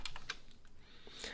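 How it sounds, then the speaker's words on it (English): Computer keyboard typing during coding in Processing, a quick run of light clicking keystrokes close to the mic, several taps in the first half and a denser flurry near the end, with no voices. "I can simply type in a mouse function here"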